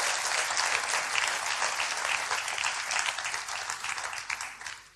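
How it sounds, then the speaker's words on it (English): A church congregation at a 2002 camp meeting applauds with hand clapping, a dense, sustained round of claps from a crowd that holds steady and fades at the end, with no talk over it. "Give him a hand clap, everybody."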